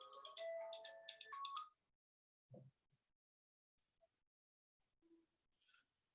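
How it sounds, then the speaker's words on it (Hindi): A phone ringtone plays a short melodic electronic tune up close, then stops, leaving near silence with a few faint thumps and small noises. "अंशु, अरे भाई क्यों फोन करता है इतना भाई।"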